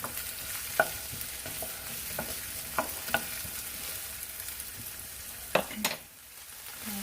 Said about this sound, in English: So I'm just going to let these onions cook a little bit through before I add the tomato